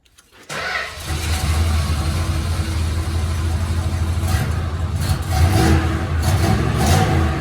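A cold 1973 Plymouth Fury fires up with a quick crank, then settles into a loud, close rumbling idle with a few blips of revving toward the end.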